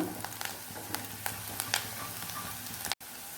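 Onions fry in a pan for a breadfruit ghee roast, a steady close crackle with scattered sharper pops and stirring clicks, then a brief cut near the end.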